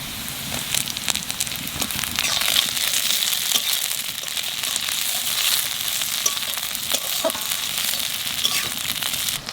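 Green chilies and onions frying in hot oil for a Bengali pui tel (malabar spinach) dish, giving a steady, dense, crackling sizzle that runs unbroken throughout with no talking.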